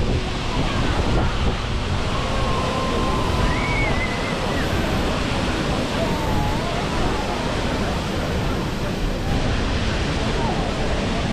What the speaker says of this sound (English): we witnessed the spectacular Sigriswil waterfall